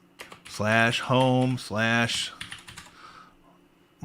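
Keystrokes on a computer keyboard as a Linux command is typed, with bursts of clicking broken up by louder tonal vocal sounds.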